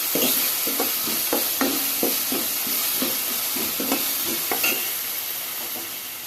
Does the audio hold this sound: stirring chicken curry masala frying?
yes